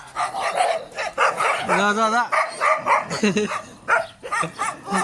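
A dog gives a short, whining bark-like yelp in the middle of a stretch of continuous, lively human chatter that mostly covers it.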